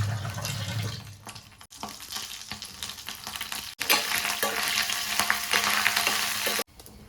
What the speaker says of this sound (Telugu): ఇది సాంబార్లో పోపు పెట్టాను కదా.